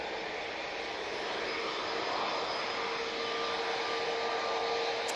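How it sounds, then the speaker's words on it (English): A Boeing 787-8 Dreamliner taxiing at Manchester Airport gives a steady, even engine whine and broadband roar with a faint high tone, constant in level throughout with no voices. "We have the 2 Dreamliner coming down towards us"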